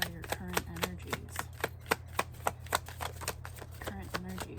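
Rapid, crisp riffling taps of tarot cards being shuffled, repeated in quick bursts close to the listener over a low steady hum.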